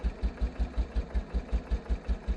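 A downloaded dirt bike engine sound plays in a Minecraft mod, a steady low throbbing idle with even pulses about five times a second, moderately loud and alone with no talk.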